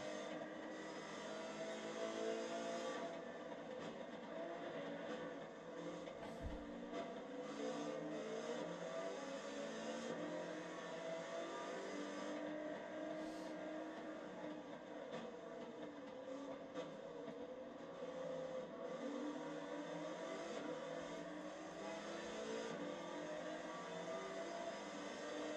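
A Toyota Land Cruiser built for Pikes Peak in Gran Turismo 7 drones steadily throughout, its engine holding a continuous mid-level roar with slight shifts in pitch and no voices.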